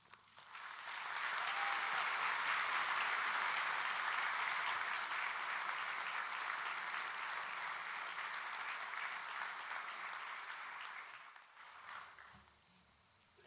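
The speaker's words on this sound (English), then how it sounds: "Thank you very much for all of the clapping." A graduation ceremony audience claps in a long, sustained wash of many hands, loud and even for most of its length before thinning and fading out near the end.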